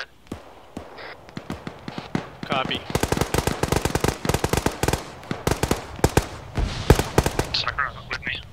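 Gunfire in the military simulation game ArmA 3 crackles in sporadic shots and then dense rapid bursts of automatic fire, with quiet voices talking in between.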